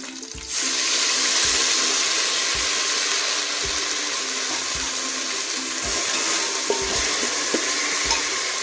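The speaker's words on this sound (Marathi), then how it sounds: "आता आपण त्यामध्ये 2 चमचे आलं लसणाची पेस्ट टाकून घेऊया" Sliced onions fry with ginger-garlic paste in a pan for veg biryani, giving a steady, loud hiss. Soft, regular thuds from stirring recur every second or so underneath.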